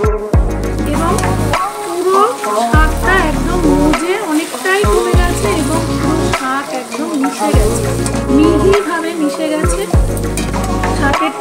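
Taro stems cooked with a hilsa head sizzle loudly and steadily in oil in a wok, with repeated stirring bumps breaking the constant frying hiss.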